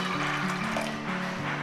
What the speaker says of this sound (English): And now I'm going to add in some water